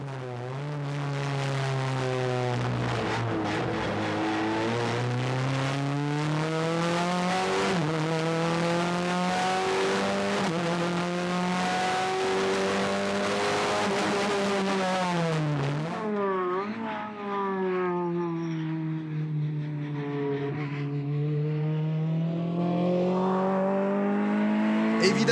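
A Renault Clio Cup race car drives hard on a circuit, its loud engine note rising and falling through gear changes and revs, close and continuous before dropping briefly and climbing again.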